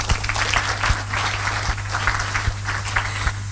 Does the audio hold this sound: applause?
yes